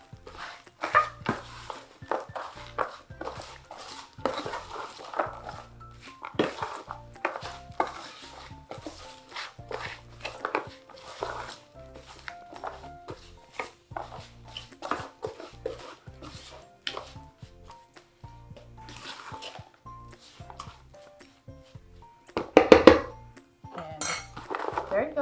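Homemade potting soil with peat moss and Epsom salt is stirred and mixed by hand, making scattered crunchy scrapes and soft rustles with a few louder knocks, while a dog barks now and then.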